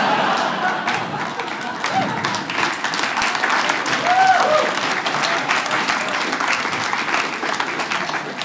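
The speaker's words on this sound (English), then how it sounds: "You begrudgingly clapped at that one." A comedy show audience applauds in a loud, dense, steady wash of clapping that carries on for the full stretch without pausing.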